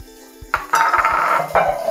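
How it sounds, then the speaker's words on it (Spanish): Vegetables being sautéed in a pot after seafood, with loud clanks of a utensil against the metal followed by bursts of sizzling and stirring, close and busy. "Vamos a saltear nuestros vegetales."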